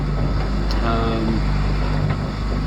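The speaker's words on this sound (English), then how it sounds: "and so it'll be a little while still with the motor on" Boat motor running steadily while cruising toward Cuttyhunk harbor in October, a continuous low engine drone with wind buffeting the microphone, no talking.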